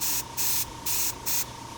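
An airbrush sprays paint onto a portrait face in four short, even hissing bursts separated by brief quieter gaps, close and clean with no voices.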